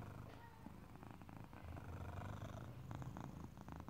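A cat purring close by, a soft continuous rumbling with rhythmic pulses of breathing, fairly quiet and alone.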